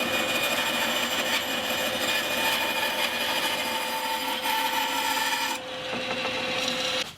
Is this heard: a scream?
no